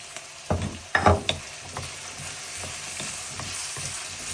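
Onions and potatoes fry in a pan, crackling and sizzling under several sharp scraping stirs near the start, then settling into a steadier hiss with lighter stirring strokes.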